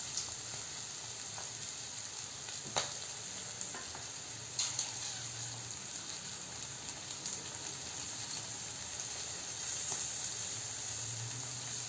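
Peas and soaked cashews sautéing in a pan, a steady close sizzle and hiss with occasional stirring scrapes and clicks throughout, no voices.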